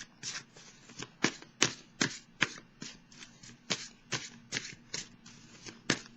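Tarot cards are shuffled close up in quiet surroundings, giving a run of sharp riffling bursts at a brisk, fairly even pace with no talking.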